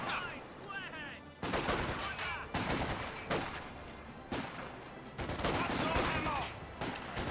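Rifle gunfire in Company of Heroes 2, with a British rifle squad firing on German troops: dense bursts of shots and volleys come in repeated waves, loud and close, over an ongoing battle din.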